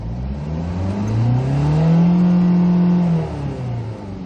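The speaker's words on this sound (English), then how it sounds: "let's try to accelerate, listen to the engine, and see the RPM meter movements here" A used Kia Sorento with navigation and sunroof revs its engine during acceleration, the pitch climbing and holding high for about two seconds before easing back down, loud and close with no talking.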